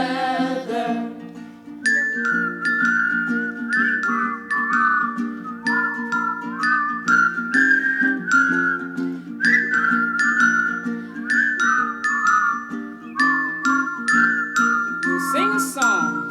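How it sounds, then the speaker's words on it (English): Two voices whistle a children's song together in a steady melody, clear and close, with light tinkling accompaniment underneath. "You whistle a while and I'll whistle a while, and we'll whistle a while together."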